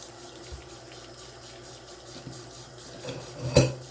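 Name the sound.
running tap water rinsing a makeup brush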